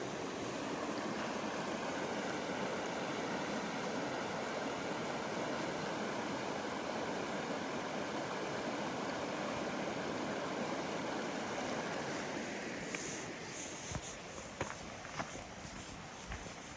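Steady broadband rush of Panther Creek flowing close by, continuous and fairly loud, with a few faint clicks and steps near the end.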